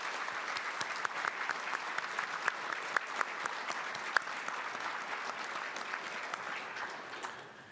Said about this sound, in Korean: 신사숙녀 여러분, 골드버그 대사님의 그 노고에 대해서 큰 박수로 한번 격려해 주시면 감사하겠습니다